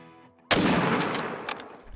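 A single hunting rifle shot in the hunting video game Call of the Wild, a sharp loud crack that rolls into a long echoing decay across open terrain.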